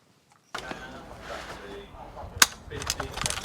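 Mechanical clicks and a sharp metallic snap as the bolt hold open lever is worked on an L86 LSW gas blowback airsoft rifle, close and fairly quiet, with faint handling noise around it.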